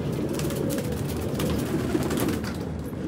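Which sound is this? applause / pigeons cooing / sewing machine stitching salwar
pigeons cooing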